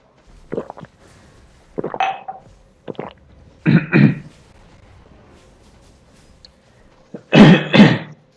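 A person coughs and clears their throat in several separate bursts, close and loud, with quiet pauses between each rough, gravelly fit.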